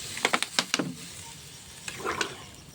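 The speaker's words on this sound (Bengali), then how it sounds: "পরিমাণ মতো জল দিয়ে দিচ্ছি।" Water poured into a pan of hot chicken curry sets off a burst of sharp sizzling crackles, then fades to a quieter simmer before a second shorter hiss flares up near the end.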